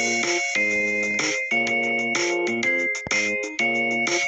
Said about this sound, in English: So yeah, Ringtones by Nokia.